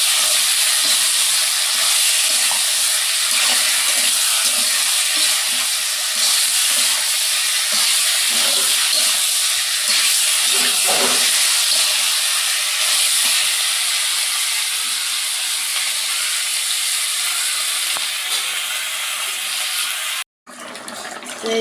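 Water poured into sautéed curry in a hot pan sizzles steadily, a bright hissing fry that continues for a long stretch with faint stirring, ending in a brief silence.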